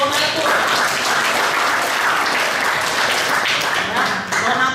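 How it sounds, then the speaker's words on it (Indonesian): A congregation at a Catholic community Mass and adoration applauds its donors, a full, continuous round of clapping from many people indoors, loud and close, with voices faintly mixed in beneath it. "Jadi tepuk tangan untuk para donatur"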